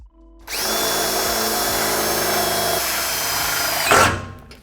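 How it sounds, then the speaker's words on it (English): A power drill bores a hole during a coilover leveling kit install on a 2021-2023 Ford F-150, running at a steady loud whine for about three seconds before winding down abruptly, with a brief clunk at the end. "just be careful as you're drilling so that way you don't ram the drill bit through it"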